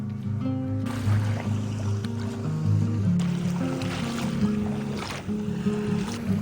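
Surf washing onto Senor Beach in Bali, a steady low roar of waves mixed with outdoor background noise and faint tonal sounds, with no clear speech.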